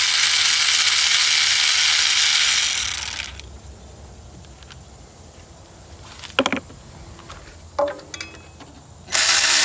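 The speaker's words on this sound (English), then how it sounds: "we're actually going to remove both of these bolts." A ratchet spins off bolts from the power steering pump on a 94-01 Acura Integra, a loud rapid clicking burst followed by a few short separate clicks and ratcheting bursts at close range.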